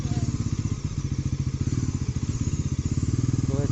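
A new Bajaj Pulsar NS400Z motorcycle engine idles while warming up, a loud, close, steady stream of rapid exhaust pulses that carries on evenly throughout.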